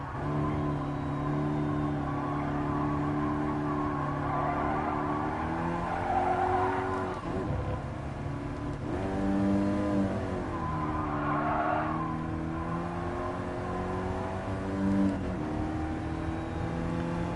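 Car engine in Gran Turismo 7 holding a steady hum with rising and falling revs, near and continuous, with no talk over it.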